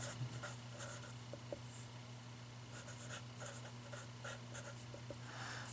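Pen or marker writing out equations, faint close scratching strokes in short irregular bursts over a steady low hum.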